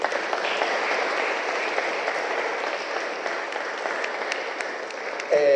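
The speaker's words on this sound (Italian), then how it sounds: "presentati i relatori, per i quali vi prego un grande applauso cumulativo" A seated audience gives a steady round of applause for the panel speakers at an Italian event, a continuous even wash of clapping from many hands, with a voice briefly breaking in at the very end.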